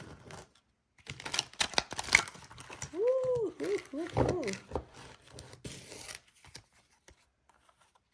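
Crisp riffling and flicking of tarot cards being shuffled in bursts, with a short vocal exclamation in the middle and soft rustling as it tapers off.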